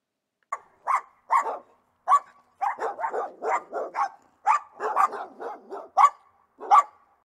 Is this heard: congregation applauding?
no